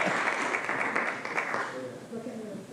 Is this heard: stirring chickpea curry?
no